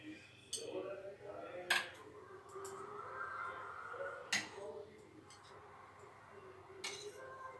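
Dishes and metal utensils clink softly while food is served as an offering for a home puja, with a few sharp isolated taps and chinks spaced apart over a quiet room.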